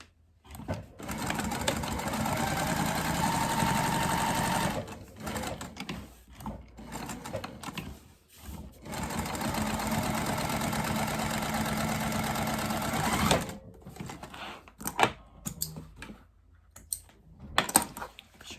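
A sewing machine stitches a crossbody bag panel an eighth of an inch from the edge, running in two long steady bursts with a short pause between, then stopping into small clicks and handling noises.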